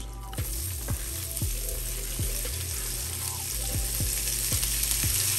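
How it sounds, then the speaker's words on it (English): Onions added to a hot pan for hamburger steak and gravy, giving a steady close sizzle with periodic stirring scrapes and clunks over a low mechanical hum. "I'm just gonna add my onion in."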